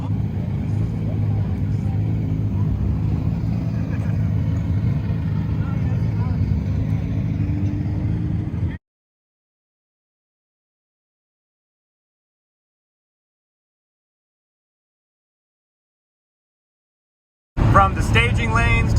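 Nissan drift car driving home on public roads after a Nissfest drift event at Irwindale Speedway, a steady loud engine and road drone for about nine seconds, then silence, then the drone returning at the end.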